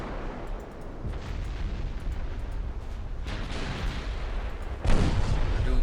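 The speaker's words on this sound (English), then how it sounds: "Make sure you are firing armor-piercing rounds" Naval gun salvos and shell explosions in the Ultimate Admiral: Dreadnoughts game, heavy rumbling booms and bursts layered over a constant low battle roar, with a louder blast near the end.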